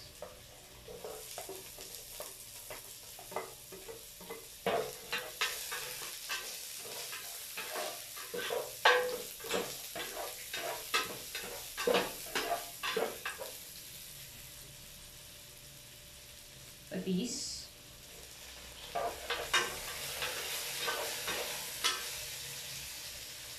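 Onion frying in a pan for a sardine and egg sauté, with a continuous sizzle and rapid rhythmic stirring scrapes, a pause, then a sharp clatter and renewed sizzling, close by and with no talk.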